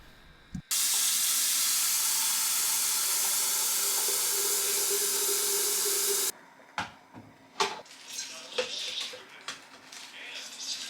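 A steady, loud hiss of an electric kettle boiling water with lemon juice, running for several seconds and then cutting off, followed by scattered clicks and small knocks.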